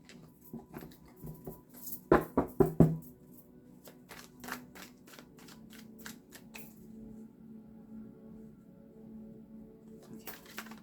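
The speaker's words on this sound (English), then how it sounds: "Let me get you some good shuffles in, Capricorn." Tarot cards are shuffled by hand, a quick cluster of four sharp riffling slaps followed by softer scattered card taps and shuffling, close and quiet overall.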